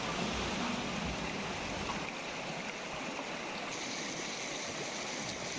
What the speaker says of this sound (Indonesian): Airnya pun sangat deras